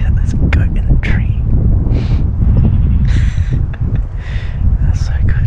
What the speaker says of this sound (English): Here comes some billy goats as well.